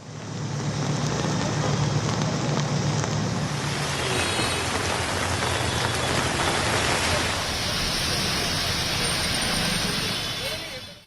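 Heavy monsoon rain pours over Mumbai streets, a dense, continuous roar of rain on surfaces with a low rumble of traffic beneath and a faint voice early on.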